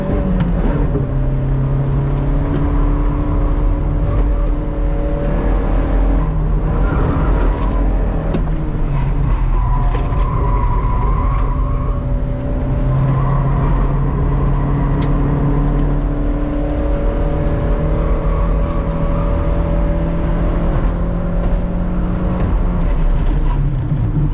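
A Toyota Paseo with a naturally aspirated 1.5-litre, 90-horsepower engine drives past as a loud, close, steady engine drone. The pitch rises and falls as it accelerates and shifts through the gears, with no talk.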